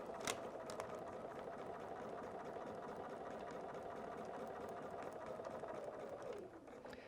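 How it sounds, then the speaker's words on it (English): Sewing machine stitching quilt foundation piecing, a continuous close mechanical whir with fine rapid ticking that slows and winds down near the end. "I'm going to put it down so that I'm one stitch before the line and sew right on that line."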